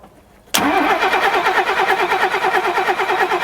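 After a brief quiet moment, a Rolls-Royce Corniche Convertible, a barn find, cranks and catches with a sharp burst, then settles into a loud, close, steady running idle with a faint rhythmic pulse.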